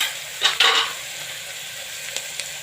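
Chopped onion drops into hot oil already holding cumin and asafoetida, setting off a sudden close burst of sizzling that settles into a quieter crackle, with a couple of sharp ticks from the pan near the end.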